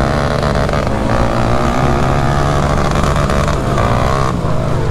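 Honda Rancher ATVs fitted with paddle tires race together, their engines roaring loud and continuous with a dense, steady drone that holds throughout without pause.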